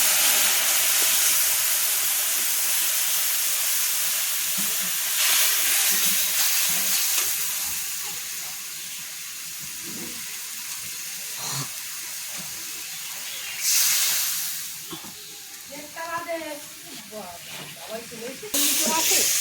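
Mustard paste for a Bengali hilsa curry sizzles loudly in hot oil, a dense, steady hiss with stirring scrapes throughout and brief voices now and then.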